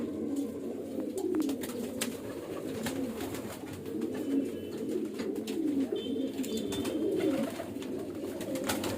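Several young highflyer pigeons coo in overlapping, low throaty calls, repeating steadily against a faint background of rustling and flapping.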